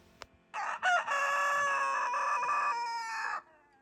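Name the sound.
rooster crowing at dawn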